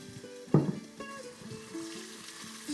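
Meat sizzles and fries in a pan while honey and stock are stirred in. There is a faint, steady sizzle with a few soft clinks and scrapes from the stirring, and no one speaks.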